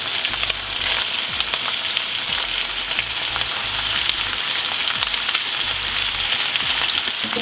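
Vegetables dumped into a pot with seared chicken and sausage sizzle and crackle loudly and continuously, dense popping frying noise up close with faint clinks of stirring.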